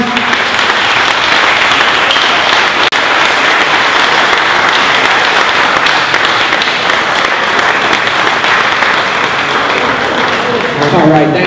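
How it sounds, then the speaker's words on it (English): Sustained applause from an audience at a 2017 Corvette giveaway award ceremony as the winning team is called up, steady and dense throughout with some voices mixed in. "Let's bring up the entire Dream Team for a round of applause."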